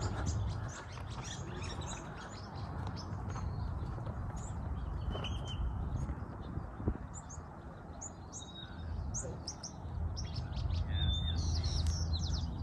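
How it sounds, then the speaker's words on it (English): Many small birds chirp and tweet continuously at moderate distance in Craig Ranch Regional Park, North Las Vegas, layered over a low outdoor rumble, with no talking. "if you could hear the birds chirping"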